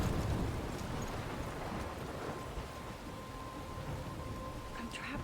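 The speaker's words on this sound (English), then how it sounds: "I'm trapped in a storm?" Steady heavy rain pours throughout a stormy scene in the video game Life Is Strange, a dense continuous hiss with no distinct thunder crack standing out.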